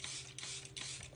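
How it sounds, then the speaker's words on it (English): Three quick bursts of Charlotte Tilbury setting spray misted from a pump bottle onto a face, each a short airy hiss in a steady rhythm, close and fairly quiet, with no talking. "This is like my favorite setting spray"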